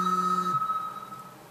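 A mobile phone rings close by with a bright electronic tone, one burst of the ringtone that cuts off partway through, leaving a fading ring.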